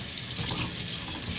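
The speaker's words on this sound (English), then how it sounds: "I would just take it and put it in the sink. Give it a little rinse out." Tap water runs steadily into a sink as an electric moka pot is rinsed, a close, continuous splashing gush with no speech.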